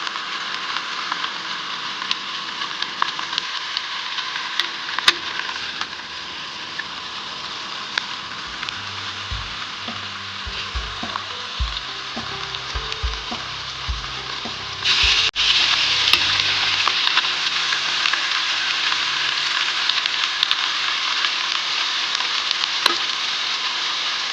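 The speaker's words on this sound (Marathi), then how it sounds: "पुरी छान फुगलेली आहे थोड्याशा लालसर अशा तळून घेऊ आपण" Raw banana puris deep frying in hot oil give a steady, loud broadband sizzle that runs unbroken throughout, with soft low bumps and clatter midway and a brief surge in intensity about two-thirds through.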